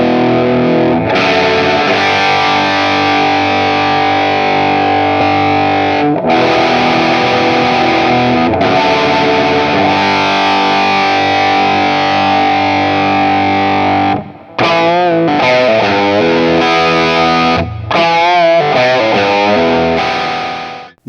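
Yamaha Revstar electric guitar through its P90 bridge pickup gives a gritty, distorted tone, with long sustained chords, a few short breaks, then choppier riffing near the end, loud and with no talking.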